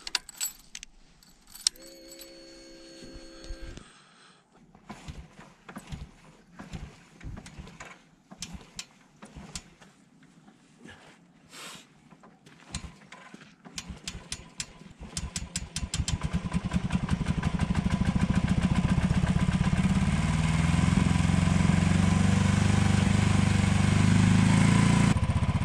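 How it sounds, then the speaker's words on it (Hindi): Keys jingle and a cold motorcycle cranks with sputtering false starts in the snow at Yangla Snow Point, then catches and settles into a loud, steady idle. "बाइक तो स्टार्ट हो गई है"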